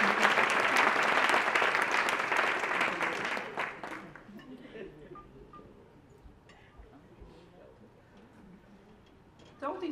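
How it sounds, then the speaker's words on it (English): An audience at the Harvest Girls White Party Gala gives a dense round of applause for a young woman, loud at first and then fading out after about four seconds into quieter room noise. "Let's give her a round of applause."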